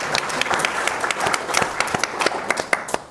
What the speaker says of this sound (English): We can give Kirsten a round of applause.